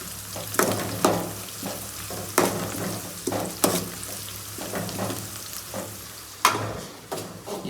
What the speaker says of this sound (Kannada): ಈರುಳ್ಳಿ ಫುಲ್ಲು ಗೋಲ್ಡನ್ ಕಲರ್ ಆಗೋವರೆಗೂ ಫ್ರೈ ಮಾಡ್ಕೋಬೇಕು